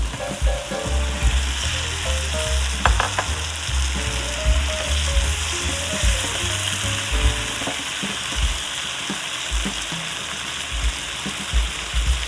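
Young jackfruit pieces sizzle steadily in a hot pan for a Padang-style gulai, with scraping stir strokes and clinks of a utensil throughout; no one talks.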